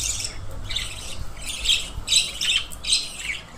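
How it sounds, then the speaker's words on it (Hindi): A flock of twelve to fifteen pet budgerigar parakeets with chicks, giving repeated bursts of shrill squawks and chirps at close range over a faint low background hum. "मेरे पास 12 से 15 है बजरी तोता, और उसके बच्चे भी है।"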